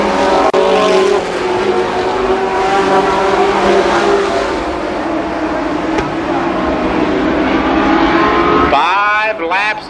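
Sprint cars racing at Columbus Motor Speedway, a loud, continuous engine roar that swells and shifts as cars pass close by, with a race announcer talking over it and a sharp revving sweep near the end.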